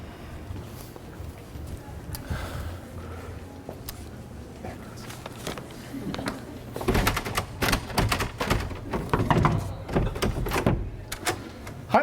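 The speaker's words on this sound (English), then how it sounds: "Let's close the door." A door is closed, first with quiet shuffling and handling, then a run of sharp clicks and thumps from the latch and frame, with a faint voice in the room.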